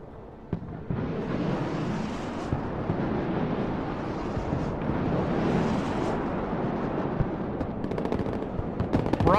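Rocket artillery fire in a war video game, a continuous loud roaring barrage of rapid bangs and rumbling blasts lasting several seconds, with sharp cracks near the end.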